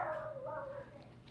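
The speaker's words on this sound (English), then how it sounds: "He's the neighbor's dog" A neighbor's small dog whimpers and yips in a brief, faint, whiny call, heard from a distance without other sounds.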